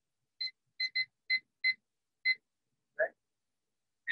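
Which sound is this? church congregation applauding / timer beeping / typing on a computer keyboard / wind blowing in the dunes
timer beeping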